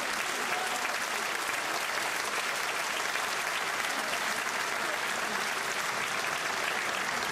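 An audience claps at a school choir concert in Čakovec, a dense and even round of applause from many hands that holds at steady strength for the whole stretch.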